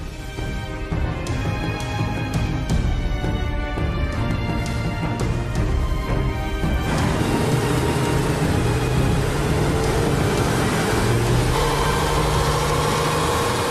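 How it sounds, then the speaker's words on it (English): A Porsche 911 engine runs steadily on a dynamometer, with a broad mechanical drone and rising whine suggesting acceleration, loud and continuous throughout with no talking. "Now we are on a dynamometer where we basically do a complete drive."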